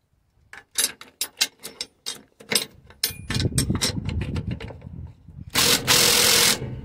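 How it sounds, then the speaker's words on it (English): A hand ratchet works on the carrier bearing mounting bolts of a Freightliner truck, with a run of sharp, separate clicks followed by denser ratcheting and a burst of hiss near the end. "let me hit this right quick with this ratchet"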